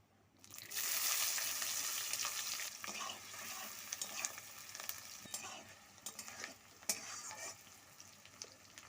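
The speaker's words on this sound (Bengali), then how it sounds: "আমি পেঁয়াজটা কুচি কুচি করে নিয়েছি, তেলের মধ্যে দিয়ে দেবো" Finely chopped onion drops into hot oil seasoned with tempering spices and starts sizzling, a loud hiss that settles into steady frying broken by scraping stirs and small clatters from the pan.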